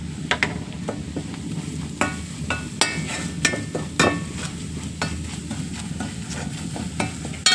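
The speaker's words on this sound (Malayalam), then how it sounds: "ചുവന്ന കൊച്ചുള്ളി കൊച്ചുള്ളി കറിവേപ്പില ഇത് മൂന്നും കൂട്ടിയിട്ട് നന്നായി മൊരിയിക്കുക" Shallots and curry leaves frying in oil with chili powder added, stirred in a pan: a steady close sizzle broken by repeated sharp scrapes and knocks of the spoon against the pan, with no voices.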